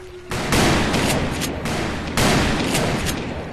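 Sustained volleys of gunfire in the Western shooter Call of Juarez: Bound in Blood, loud, dense bursts overlapping in two main waves with a brief lull between.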